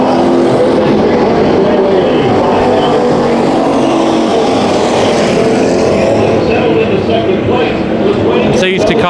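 Race cars in heat races at Bakersfield Speedway roar out of a corner, loud and sustained engine drone with rising and falling pitch, while a commentator talks over the noise.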